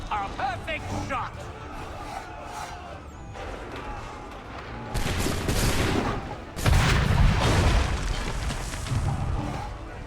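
Cannon fire in Assassin's Creed 3 Remastered, with loud booming blasts that swell midway and hit hardest near the end, layered over dense game noise and crowd-like background sound while someone talks.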